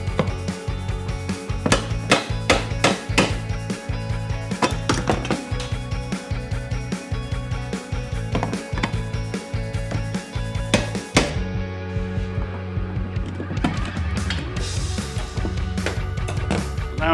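Metal hammering on parts underneath a car during a repair, with rapid, sharp, loud blows in a steady repeating rhythm, then scraping and clattering near the end, no talk.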